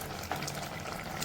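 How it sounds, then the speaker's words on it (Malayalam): Chickpea curry bubbling at a full boil in a pot, a dense, steady close simmering hiss with soft pops, no voices. "ഇപ്പോൾ ഇത് നല്ലതായിട്ട് തിളച്ചിരിക്കുന്നത്"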